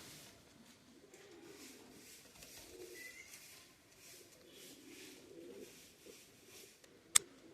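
Pigeons in a loft coo softly in low, repeated murmuring calls that overlap at a gentle, uneven pace, faint and close, with one sharp click near the end.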